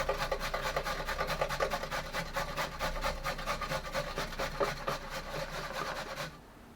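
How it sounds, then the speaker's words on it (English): Peeled carrots are grated by hand into a bowl, making rapid, close, rhythmic scraping strokes that run steadily for about six seconds and then stop. "we're going to take the carrots which have been peeled and we're just going to grate them straight into the bowl"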